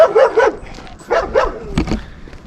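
A dog barks several times close by in the Albanian countryside near Saranda, in two quick clusters, sharp and yippy, followed by a brief whine.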